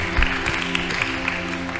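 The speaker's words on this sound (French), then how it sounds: "Applaudir nos musiciens d'ailleurs parce qu'ils font un travail extraordinaire." A church congregation applauds the musicians during worship, with a soft, even patter of clapping beneath sustained instrumental music.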